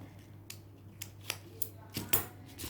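Scissors snip through paper in a steady series of short, crisp cuts, close by over a faint low hum, with no talking.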